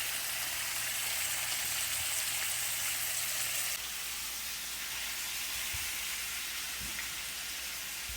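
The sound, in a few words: chicken frying in butter in a pan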